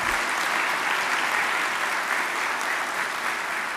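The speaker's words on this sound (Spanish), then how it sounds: "Démosle también un aplauso porque hay que felicitar a las instituciones cuando realizan su trabajo." An audience claps steadily for the armed forces at a public accountability event, a dense, even wash of applause lasting a few seconds with no voices over it.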